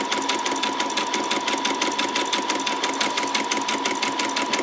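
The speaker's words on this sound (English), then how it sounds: "I did a back stitch, that's why it's making that noise." A sewing machine runs a back stitch in a fast, steady mechanical chatter with a constant whirring hum, close up and continuous throughout, no voices.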